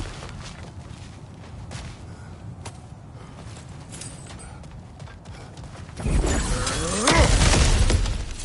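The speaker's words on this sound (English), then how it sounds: "axe smashing through things for fun and profit" In God of War Ragnarok, an axe smashes through cracked ground: quiet ambience and light taps, then a loud crunching shatter with scattering debris near the end.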